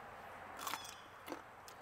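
Two brief, crisp crunches from biting into a raw rattlesnake green bean picked in a garden, quiet and close, with a short pause between bites and no talking.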